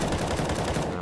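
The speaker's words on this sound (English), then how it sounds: "Nickelback was blind, but not before he'd start shooting at Adren" Gunfire in a Counter-Strike esports match from EPIC League CIS 2021: a brief burst of rapid, dense shots, loud and close.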